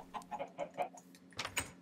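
Two chickens in the Minecraft video game cluck in a quick run of five or six evenly spaced clucks, then a brief busier flurry near the end, close and clear with no speech.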